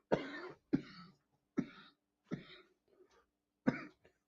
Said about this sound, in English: See, I growled that little bit Grandizer 12 and now I'm coughing.